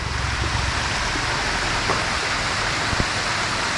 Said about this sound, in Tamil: பட் பியூட்டிஃபுல்லுங்க, நல்லா அருமையான ஒரு ஃபால்ஸு.